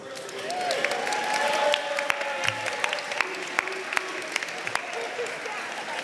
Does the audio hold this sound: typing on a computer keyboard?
no